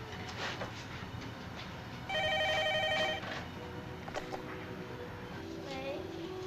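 A telephone rings in a short, clear burst of electronic trills about a second long, set against quiet room tone and some background noise.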